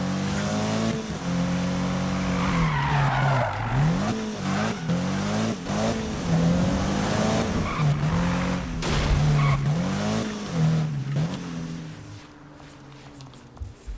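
A tuned, heavily modified BMW engine in the Need for Speed video game roars and revs continuously, its pitch rising and falling through gear changes, with tire squeals mixed in and no one speaking.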